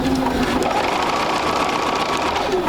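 Sewing machine stitching a quilt block, a steady, loud mechanical whir running unbroken throughout with no voice over it.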